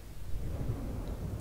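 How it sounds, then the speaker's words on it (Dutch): Low rumbling thunder of an approaching storm in the Fortnite video game, a brief, soft, steady roll with no voices. "En een storm komt al."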